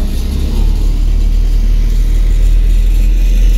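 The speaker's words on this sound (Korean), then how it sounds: "엑셀 한번 또 살짝 밟아보고" A car engine rumbles steadily at low pitch as the accelerator is pressed lightly during a driving lesson in an empty lot, holding a smooth, even drone throughout with no voices.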